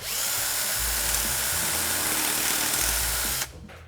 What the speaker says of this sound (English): put in the 17/64 drill bit,